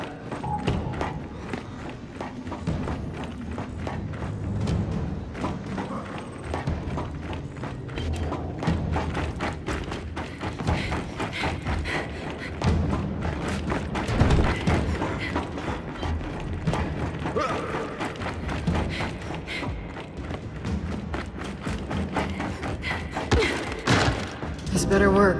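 Rocket-assembling machinery in Gears 5 clanks, ratchets and grinds continuously on a platform, with repeated mechanical thuds and creaks throughout and occasional voices beneath.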